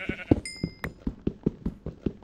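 A blocky Minecraft sheep bleating in survival mode, one close, clear baa over a backdrop of rhythmic footstep-like game thumps.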